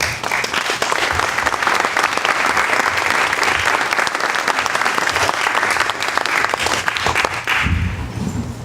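A lecture audience applauds to welcome a speaker, loud sustained clapping from a full room that holds steady for about seven seconds before tapering off.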